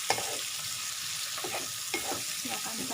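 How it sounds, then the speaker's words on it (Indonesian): Bitter melon and shrimp sizzle steadily in a hot pan while being stirred, with repeated soft scraping strokes of a utensil over the constant frying hiss. "Kita aduk."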